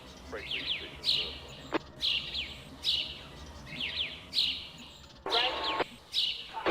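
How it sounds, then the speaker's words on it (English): Repeated bird chirps inside the Trainz railway game, short bright calls recurring about every second over a low background hum, with brief louder bursts between them. "Where in the world is that bird sound coming from?"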